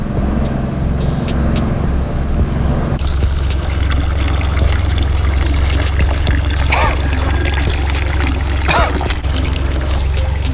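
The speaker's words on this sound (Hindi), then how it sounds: "ये बहुत ठंडा माउंटेन का सीधा पानी आ रहा है।" Cold mountain water flows and pours in an Alpine village in Switzerland, a continuous loud rushing splash over a low rumbling background, steady throughout with no talk.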